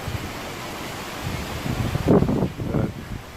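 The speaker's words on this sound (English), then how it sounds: "Every once in a while we'll get some really good gusts like this" Strong wind gusts buffet a house as a hurricane approaches, a steady roar of broadband wind that swells into a louder, rougher gust near the end, heard alone without talk.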